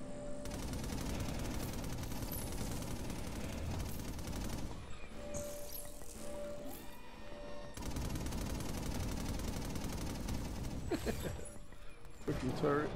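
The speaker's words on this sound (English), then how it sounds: "Freaking turret." A turret in the video game inFAMOUS Second Son fires dense rapid bursts of gunfire, loud and continuous with brief gaps, while a person talks over the shooting.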